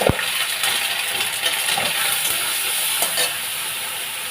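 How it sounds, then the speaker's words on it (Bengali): Chili, cumin, ginger, garlic and onion fry in hot oil with a loud, steady, close sizzle that runs the whole time, plus a sharp clink at the start and occasional stirring scrapes. "তেল গরম হয়ে গেছে, এই লঙ্কা দিলাম, একটু জিরে দিলাম, তারপরে আদা রসুন পেঁয়াজ দিলাম"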